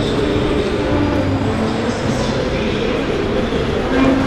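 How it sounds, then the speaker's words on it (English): Inside a Paris Metro subway train, a loud, steady rumble of the moving carriage fills the space, with wheel and rail noise throughout and faint voices beneath. "The metro."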